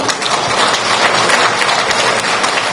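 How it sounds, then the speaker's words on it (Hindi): A large crowd at a political rally claps steadily for polling agents, dense continuous applause close and loud throughout. "एक बार ताली बजाओ पोलिंग एजेंट के लिए"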